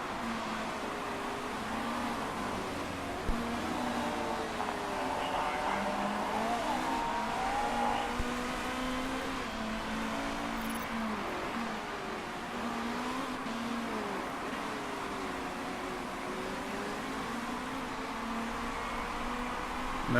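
Race cars circling a track in Motorsport Manager, a continuous wash of engine drone with rising and falling pitch as cars pass, heard at a distance over steady broadband noise, no voices.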